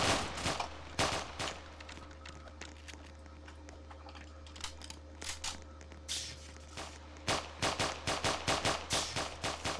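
Rapid bursts of gunfire in a Roblox prison riot game crackle in irregular clusters, some quick volleys and scattered single shots, fairly faint and with gaps between them.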